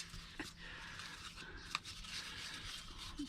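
Scissors snip open an old Darjeeling tea bag with a few faint, close cuts and a soft rustle of paper between them. The sounds are quiet over a low background hum.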